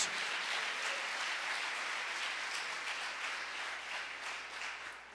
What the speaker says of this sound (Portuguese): Se você crê nisso, aplauda ao Senhor